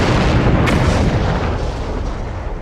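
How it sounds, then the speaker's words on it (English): A loud, sustained explosion roars from a monster film's ship blowing up, a dense rumbling blast with a sharp crack near the start that then rolls on and slowly thins. "that was a damn good explosion"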